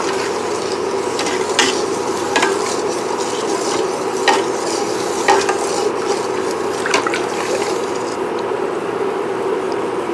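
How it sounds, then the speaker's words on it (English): Brown sugar mixture for pineapple upside down cake moonshine simmering in a pot on the stove, a steady bubbling sizzle with repeated spoon scrapes and taps against the pot, close and even throughout, no speech. "all we really need to do is bring this up to a simmer and melt all that brown sugar."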